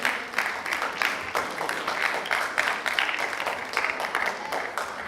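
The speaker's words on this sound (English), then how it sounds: "It's okay, you can clap." An audience at a Garden City Project for Child Abuse Prevention event claps steadily for several seconds, a dense, moderately loud patter of many hands with no one talking over it.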